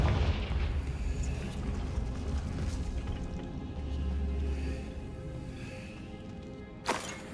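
A Confringo blasting-spell explosion in Hogwarts Legacy: a long deep rumbling boom that swells and decays over several seconds, followed by a sharp crack near the end.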